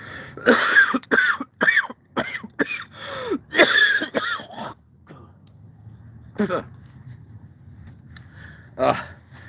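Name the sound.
cough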